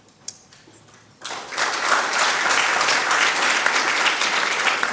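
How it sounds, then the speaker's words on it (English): Applause from the audience at a 2019 annual meeting, beginning after a short quiet moment with a few scattered sounds, then rising abruptly into full, sustained clapping from a large room that continues to the end. "You can hold your applause till the end."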